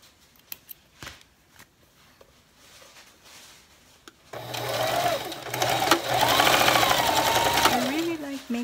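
Sewing machine stitching three layers of fabric together for a 3D face mask, starting with quiet taps and handling noises, then running in a steady continuous whir for the second half.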